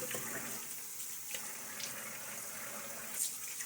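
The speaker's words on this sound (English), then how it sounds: "Quick splash of water" Water from a tap splashes and runs at a bathroom sink during a wet shave, a steady hissing stream with a few brighter splashes, close and alone.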